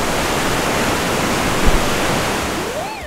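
Huge volume of water rushing at a water treatment plant, up to 16,000 litres per second, a steady loud broadband roar filling the whole clip with no talk.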